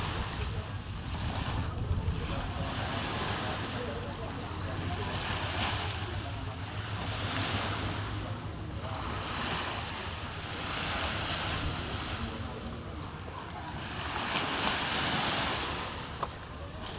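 Ocean waves at Bondo beach in Jepara in the late afternoon, with surf washing in repeatedly in broad swells under steady wind rumbling against the microphone.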